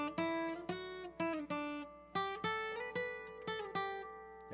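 Solo guitar plays the full opening riff of a song, a steady run of bright plucked single notes climbing and falling along one string, close and clear with ringing sustain.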